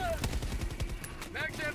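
Rapid gunfire from a weapon in the video game Helldivers 2, a quick string of close, punchy shots with a voice speaking briefly over the end.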